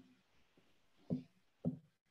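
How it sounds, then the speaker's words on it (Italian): A hand striking a desk: two distinct dull thumps about half a second apart, close and fairly quiet, preceded by faint softer taps. "questa è semplicemente la mano sulla scrivania."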